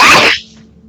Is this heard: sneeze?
yes